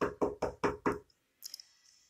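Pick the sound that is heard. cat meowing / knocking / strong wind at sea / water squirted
knocking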